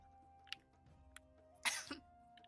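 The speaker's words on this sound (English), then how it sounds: "why am I coughing?" A person coughs with faint throat clearing, one sharp burst followed by a brief rasp, quiet and isolated against a low background hum.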